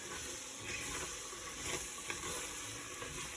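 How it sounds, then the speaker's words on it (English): Gumbo is stirred in a pot on medium-low heat, a continuous soft sizzle and hiss with faint scraping strokes, quiet and close, without talking. "what we want to do now is stir it up real good"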